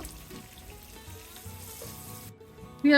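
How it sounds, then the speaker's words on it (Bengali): Chopped onions, a little under a cup, fry in oil for a shol fish curry with bean seeds and potato, a steady close sizzle with faint tonal clatter, ending in a sudden loud burst. "এক কাপের একটু কম পেঁয়াজ কুচি আছে দিয়ে দিলাম গুলোকে হালকা বাদামি করে ভেজে নেব"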